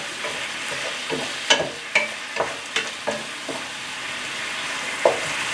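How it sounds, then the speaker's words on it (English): Sesame oil sizzles steadily in a pan of Asian beef stir fry, with rhythmic clacks of stirring against the pan throughout. "Alright, now I'm just going to drizzle some sesame oil."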